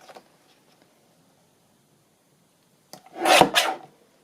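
A rough paper edge cut from a book being trimmed: a single short rasping swipe near the end, close and fairly loud, after near silence.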